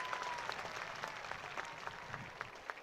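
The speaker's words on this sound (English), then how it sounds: "How about a nice round of applause to compliment our organist?" An audience claps for the organist at a horse show's championship class in an indoor arena, a steady wash of applause with scattered louder claps, fairly distant and continuous.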